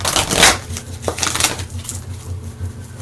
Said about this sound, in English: Let's just give that a quick little shuffle up and deal.